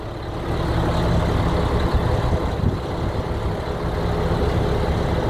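A Peterbilt truck idles nearby with a steady, loud low rumble, continuous throughout.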